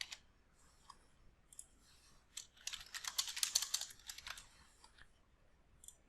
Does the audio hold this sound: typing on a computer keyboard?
yes